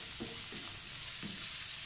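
Beef stir-frying for fried rice in a hot pan, a continuous loud sizzle with a few scraping stirs of the spatula close by, no talking.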